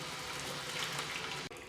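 Water rushing steadily through a Griot's portable water deionizer, a faint, even hiss of flow with a brief dip near the end.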